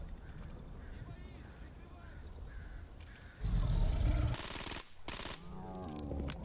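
Repeated gunshots fired at a Chimera mutant in S.T.A.L.K.E.R. GAMMA, a loud burst of rapid shots amid creature roars and game noise, with someone talking.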